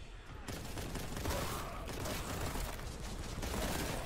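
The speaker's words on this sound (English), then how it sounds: "Oh, God, they got another fucking machine gun." Enemy machine gun fire in Warhammer 40000: Boltgun rattles on without a break, a dense and loud clatter of shots with mechanical clanking mixed in.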